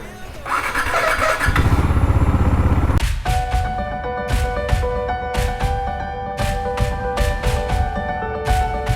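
A KTM motorcycle engine cranks with a loud starter whirr for about three seconds, then catches and idles with a rhythmic, pulsing thump, close and alone.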